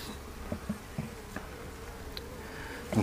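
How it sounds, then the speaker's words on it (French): Honeybees in an opened beehive give a low, steady buzz close by, with a few soft knocks and brief louder passes of single bees. "Hop, je vous montre l'intérieur de la ruche."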